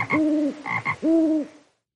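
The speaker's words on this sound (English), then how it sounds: "He listens to the frogs." Frogs croak in a short series of loud, throaty calls close by, three or four pulses over a couple of seconds before falling silent.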